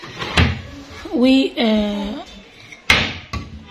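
Children's bedroom furniture being handled: wooden drawers slide open and shut and a cupboard door clunks, with sharp knocks and scraping slides close by, while someone talks between the sounds.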